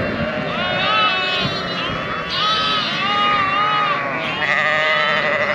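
Freshly shorn ewes and their lambs bleat all over a pen in Utah, many overlapping high and low calls near and far, with a person talking among them.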